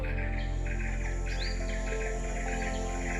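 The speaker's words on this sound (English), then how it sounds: "A black and yellow broadbill." A black and yellow broadbill calls in a Borneo forest canopy, with several short chirping notes and a rising whistle over a steady background of insect buzzing and other birdsong.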